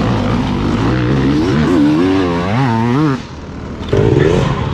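A hard enduro motorcycle engine revs up and down in wavering bursts, cuts out briefly, then roars back; fairly loud and close.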